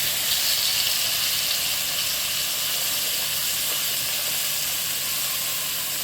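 Ground masala paste, coarsely crushed rather than smooth, hitting hot oil for a thick-gravy chicken curry, giving a loud, steady hiss and sizzle that holds level throughout with no talk.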